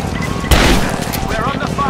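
Gunfire in Rise of the Tomb Raider, with a sharp loud shot midway through the scene and continued firing under voices that are talking.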